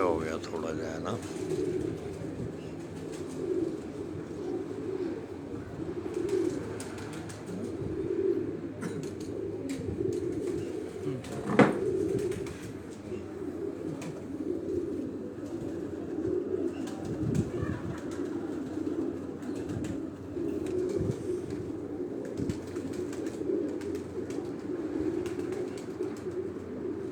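Pigeons coo softly and steadily across a rooftop breeding loft, a low continuous murmur with a few wing flaps, while someone talks over them throughout.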